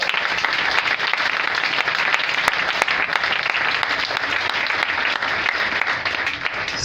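Congregation at a French-language church service breaks into sustained applause, a dense, steady wash of many hands clapping throughout with no break.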